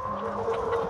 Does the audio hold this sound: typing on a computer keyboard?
no